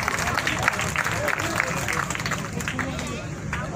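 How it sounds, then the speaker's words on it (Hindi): Villagers at an outdoor village gathering break into clapping and scattered applause, a busy patter of hands under crowd chatter and talk nearby. "भैया ताली बजा दो।"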